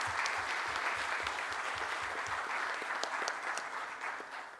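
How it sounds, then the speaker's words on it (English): Audience at a national management convention applauding as a speaker is introduced: a continuous, even wash of many hands clapping at moderate distance, fairly quiet and without speech. "Can we give a wonderful round of applause to him?"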